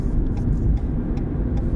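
During a driving lesson on a short merging lane, a car's engine hums low and steady under road noise for a brief moment, close and continuous with no talk.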